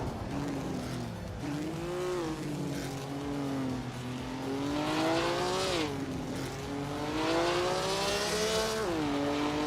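Race cars, among them a 1965 Alfa Romeo GT, drive in a racing video game, engines droning and rising in pitch through repeated gear changes, loud and steady throughout.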